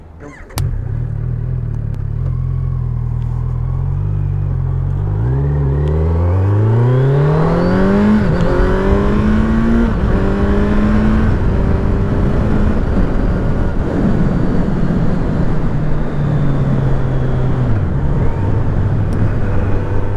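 Kawasaki Z900 A2 motorcycle engine on the road, loud and close, idling low and then revving up through rising gears with steady wind rumble, no voices.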